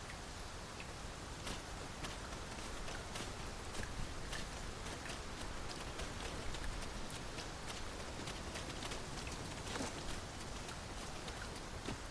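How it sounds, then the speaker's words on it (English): Steady rain falls in Dragon's Dogma 2, a constant soft hiss with scattered drop taps and a few faint thuds like footsteps, with no talking. "'Tis raining cats and drakes. There's naught to be done but suffer our wet boots."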